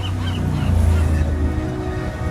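Geese honk at a beach in Malibu, where birds are being fed, their calls loud and close over a steady wash of surf and outdoor noise.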